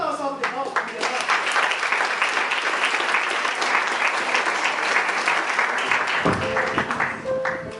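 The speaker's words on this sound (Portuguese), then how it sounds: "Vamos dar uma salva de palmas para a mulherada?" A church congregation applauds the women during a service: loud, dense clapping mixed with cheering voices and background music, easing off near the end as a voice and musical tones return.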